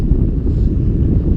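Heavy wind buffeting the microphone, a loud continuous low rumble with no other sounds.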